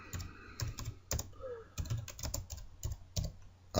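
Keystrokes on a computer keyboard while text goes into a text box, coming in short irregular bursts of close, crisp clicks separated by brief pauses, with no voices.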